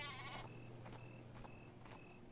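Sheep bleating in the game Worms Revolution, a short series of faint, repeated bleats over a quiet steady background, with no talk.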